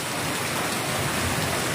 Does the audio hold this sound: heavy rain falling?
yes